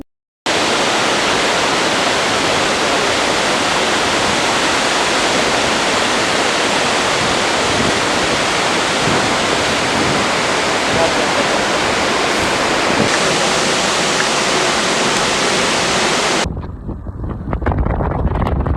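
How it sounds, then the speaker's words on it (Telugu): Nuranang waterfall, a giant waterfall in Arunachal, roars as a loud, steady broadband rush close by for most of the stretch, then cuts off abruptly near the end, leaving a quieter, fainter background. "చూడండి ఎంత జైగాంటిక్ వాటర్ ఫాల్స్."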